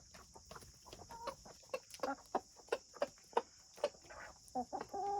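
Hens including a silkie cluck softly while eating spaghetti, with a series of short, close clucks and quick pecking sounds in an uneven rhythm, faint overall against a steady background hum.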